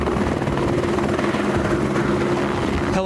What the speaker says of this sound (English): Helicopters took off from the Wendover Airport to retrieve a commercial spacecraft